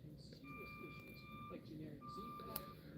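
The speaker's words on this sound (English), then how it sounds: "Sounds like the food trucks at the restaurant across the street. Restaurant slash bar. Oh, nope, coming down my alley." A truck's reversing alarm beeps steadily in a city alley, a repeating electronic tone heard at a distance under ongoing talk and room noise.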